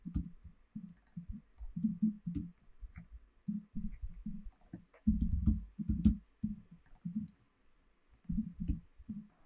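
Code is being typed on a computer keyboard in quick runs of soft, close keystroke clicks, broken by brief pauses and then resuming in bursts.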